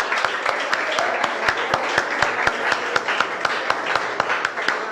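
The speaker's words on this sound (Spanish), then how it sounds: "Dale palmas al Señor." A church congregation clapping in a steady, regular rhythm during a worship service, loud and close throughout, with faint background noise.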